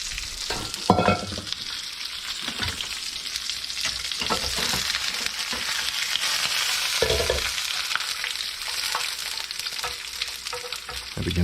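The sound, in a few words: bacon frying in oil and rendered bacon fat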